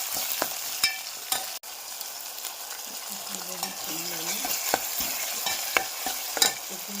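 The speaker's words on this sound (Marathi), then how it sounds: "ते भगर शिजत आहे." Barnyard millet (bhagar) khichdi cooking in a pan, a soft steady sizzle under repeated scraping and tapping strokes of a spoon, with several sharp knocks against the metal rim, close and fairly quiet.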